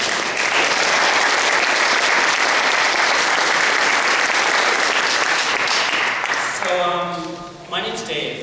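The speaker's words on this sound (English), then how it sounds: "And let's just give her a round of applause." A town hall audience on electoral reform applauds: dense, sustained clapping for several seconds that fades toward the end as a voice begins speaking.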